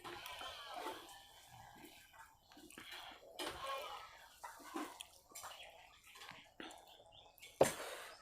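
Homemade dal, a lentil soup served with a rice lunch, is poured onto a plate in a soft, wet, splashing stream close by. A whispering voice talks around it.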